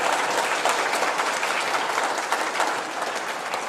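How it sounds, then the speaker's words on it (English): Church congregation applauding during a worship service, a steady dense patter of many hands clapping at a moderate, even level throughout with no voices. "So if we could just give them a round of applause."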